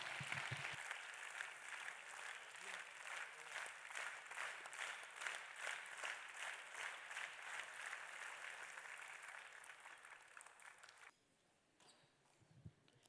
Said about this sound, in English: Can we have a round of applause for these talented artists?